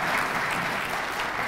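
Audience clapping at a medical school white coat ceremony, a brief dense burst of applause filling the whole moment.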